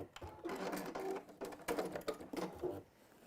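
A sewing machine stitches binding onto fabric for a tablet cover in short, quiet, uneven bursts of rapid mechanical chatter, close by.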